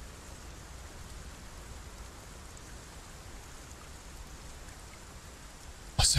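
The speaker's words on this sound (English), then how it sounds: "It's the first time I've seen rain in the game." Rain falls in the video game Dragon's Dogma 2, a steady even hiss of moderate volume with no voices, ending in a sudden louder burst.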